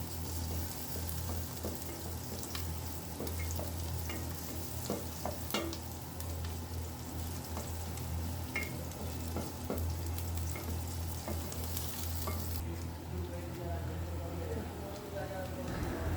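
Rohu fish head browning in hot oil as it is stirred, for a Bengali muri ghonto; a steady sizzle of frying with scattered scrapes and clinks of the spoon, under occasional talk.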